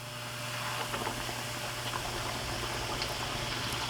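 Whole catfish lowered into hot frying oil: a steady, close bubbling sizzle that swells in the first half second and holds evenly over a low hum.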